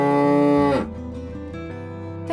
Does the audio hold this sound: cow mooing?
yes